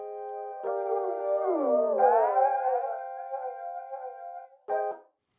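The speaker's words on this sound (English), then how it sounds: "The center chain has a flanger applied, which sounds like this when you overdo it." A sustained harmonic tone with heavy, overdone flanger effect, sweeping, swirling comb-filter movement whooshing up and down for about four seconds, then a brief burst at the end.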